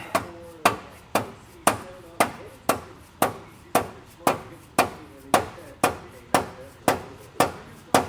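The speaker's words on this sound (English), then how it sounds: "Start tapping her a little bit." A hammer taps a sway bar part into place on a Jeep Gladiator during an ANTIROCK sway bar install, about sixteen sharp, evenly spaced metallic knocks ringing close and loud.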